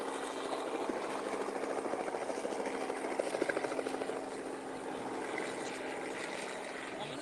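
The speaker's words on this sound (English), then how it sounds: "Get a shot of that helicopter." A helicopter flies over a rapeseed flower field scenic area in China, giving a steady, moderately distant rotor and engine drone that holds for about seven seconds.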